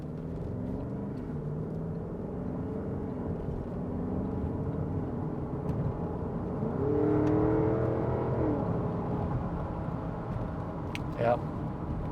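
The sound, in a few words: 2021 Porsche Cayenne GTS accelerating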